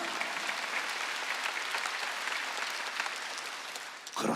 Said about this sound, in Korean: 믿고 박수치래, 박수